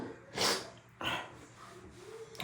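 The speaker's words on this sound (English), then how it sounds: "Hold on, I'm gonna sneeze." A person's sneeze: a sharp breathy burst followed by a second shorter expulsion, close and fairly soft, then quiet breathing.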